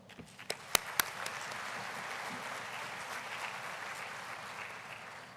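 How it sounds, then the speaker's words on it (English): Audience applause at an autumn university graduation ceremony, opening with a few sharp, close individual claps before swelling into a steady, moderately loud wash of many hands clapping that carries on evenly to the end. "So I'd like to give them a round of applause as well."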